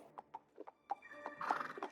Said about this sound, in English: My horse became anxious.